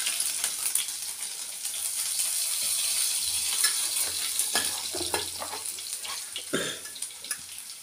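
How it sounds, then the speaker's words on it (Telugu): Garlic fries in hot oil with mustard seeds as the tempering for a potato curry. A steady, fairly quiet sizzle carries sharper crackles and pops that grow denser toward the end. "తెల్లగడ్డ వేగిపోయింది కదా"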